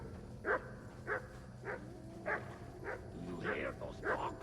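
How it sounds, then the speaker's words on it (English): Dogs in Kingdom Come: Deliverance II bark in a steady series of about eight distant woofs spaced roughly half a second apart, heard over low in-game ambience. "Do you hear those dogs?"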